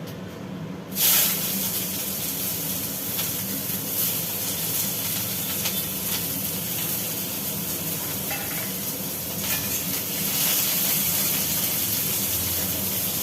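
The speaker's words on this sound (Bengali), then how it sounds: "পেঁয়াজগুলো এবার ছেড়ে দিলাম এই তেলি" Onions hit hot oil with a sudden burst, then keep up a loud, steady sizzle and hiss, with occasional stirring.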